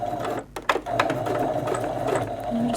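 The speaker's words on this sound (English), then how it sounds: "I'm just going to start stitching straight stitch and a back stitch." A sewing machine runs a steady straight stitch along the zipper of a reversible hoodie, its motor humming continuously with a short pause and restart partway through, close and alone with no talking.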